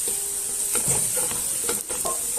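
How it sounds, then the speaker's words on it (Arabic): Golden fried onions with spices being briefly sautéed in a pot, giving a steady close sizzle with a few scraping stirs of a spoon against the pot. "نحمسه حمسة بسيطة بالبهارات البصل"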